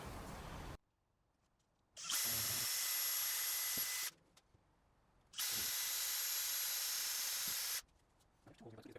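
A power drill drilling wood on a cabinet drawer front whirs loudly in two sustained bursts of about two seconds each, separated by quieter pauses with faint background noise.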